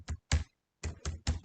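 Keys on a computer keyboard clatter in five quick, close, crisp bursts, with a short pause in the middle, alone without any talking.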